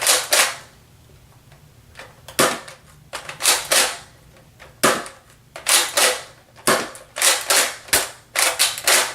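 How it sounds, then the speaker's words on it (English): A Nerf Elite Delta Trooper blaster fired repeatedly while its slide is racked back and forth, giving sharp clacking shots in quick clusters with brief gaps, loud and close. "Just hold down, just keep racking the slide back and forth."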